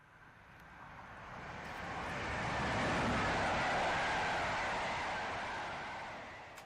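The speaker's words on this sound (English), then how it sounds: "So we've got this train here." A train sound effect made for a video game rumbles past, swelling from a distant roar to a loud peak midway and fading again, a broad steady rush of wheels and wind.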